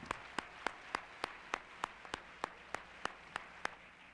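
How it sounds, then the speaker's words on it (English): Slow, evenly spaced claps ring out at the 1994 Spirit Awards ceremony, about a dozen sharp hand claps at a steady rhythm over a faint room hiss, with no talking. "ladies and gentlemen, a round of applause for Ebert and Siskel"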